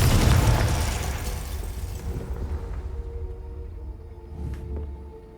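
Confringo fire spell exploding in Hogwarts Legacy, a loud burst that opens with a heavy boom and rolls into a fading rumble, followed by a smaller whooshing flare near the end.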